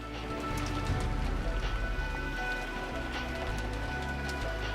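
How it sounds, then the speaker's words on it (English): Rain and wind around a mansion in the Umineko visual novel, a steady hiss of rainfall with scattered drops and a low rumble running evenly throughout, with no talk. "The window opened, exposing the rain and wind outside the mansion."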